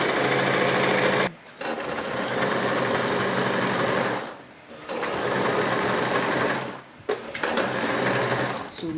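A sewing machine stitching the side seam of a pencil skirt runs in three long, steady buzzing bursts, separated by short pauses, close and loud with no talk.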